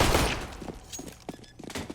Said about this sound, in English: as shots ring out